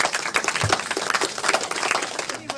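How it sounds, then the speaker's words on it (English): Guests at a memorial life celebration give a warm round of applause, steady irregular clapping from a modest indoor gathering, fairly close and sustained for a couple of seconds without speech. "A big round of applause to all of you."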